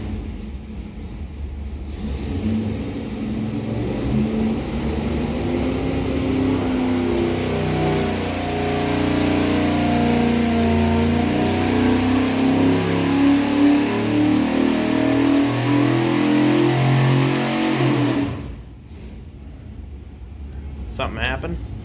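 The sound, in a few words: 1970 Mopar 440 big-block engine with 850 carburetor on dyno pull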